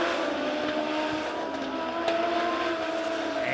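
A white number 29 Legends race car runs on the Springfield Raceway dirt track, its engine a loud, steady roar that holds without breaks as it heads toward the start-finish line.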